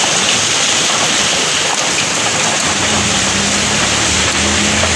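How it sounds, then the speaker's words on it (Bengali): Steady rain pours down continuously, a dense even hiss close by with no voices. "দেখো কেমন বৃষ্টি পড়ছে"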